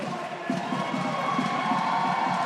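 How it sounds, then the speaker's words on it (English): York supporters cheering at a women's volleyball match, a sustained crowd roar with shouting voices, loud and steady throughout, filling the hall without a break. "And the York crowds are loving"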